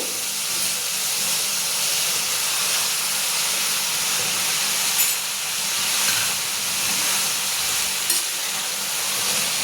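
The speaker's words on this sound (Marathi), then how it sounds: "आता त्याच्यामध्ये आपले हे नूडल्स टाकून घेऊ।" Noodles hit a hot pan and set off a loud, even hiss of sizzling steam that holds steady throughout, with a couple of brief clicks; no voices.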